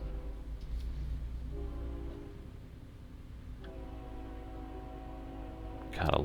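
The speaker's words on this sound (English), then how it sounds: "Gotta love the train sounds." A train rumbles through a rail yard near North Platte in American Truck Simulator, a steady low rolling drone with a brief horn-like tone, ending in a sharper burst of noise.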